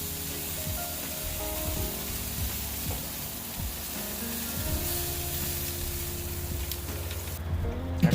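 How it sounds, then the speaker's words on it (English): A patty sizzles steadily on a grill, a continuous crackling hiss with low hum underneath, no voices. "Flip it. Listen to that sizzle."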